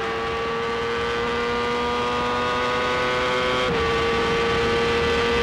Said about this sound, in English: Most of the guys going through the gears at the moment.